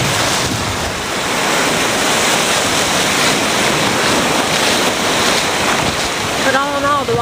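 Ocean surf washing onto a beach along the Gulf coast after the BP oil spill, a steady loud roar of breaking waves with wind buffeting the microphone throughout and a brief faint tonal sound near the end.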